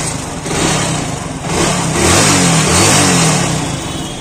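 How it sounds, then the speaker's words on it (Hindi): A vehicle engine runs after being started and revs up repeatedly in strong, close surges that rise and fall over a steady running drone. "गाड़ी को स्टार्ट कर चुका हूँ"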